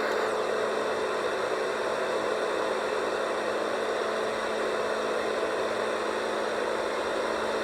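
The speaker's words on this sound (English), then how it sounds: "Then we'll listen to the small fan." Small fan setting of a Big Red Rooster sleep sound machine produces a constant airy rushing hiss with a low steady hum underneath, unbroken and close, with no talking.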